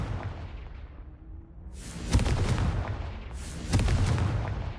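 Confringo blasting spell cast in the Hogwarts Legacy video game, heard as two loud, booming, crackling blasts about a second and a half apart over a steady rumbling game background, with no talk.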